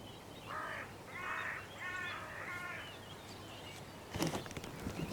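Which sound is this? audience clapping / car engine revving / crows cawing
crows cawing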